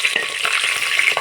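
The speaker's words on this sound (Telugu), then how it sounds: "పచ్చిమిర్చి వేసుకుందాం. మిక్స్ వేస్తాం." Green chillies fry in a pan for a Rayalaseema-style fish curry, sizzling loudly up close with quick scraping stirs mixed in.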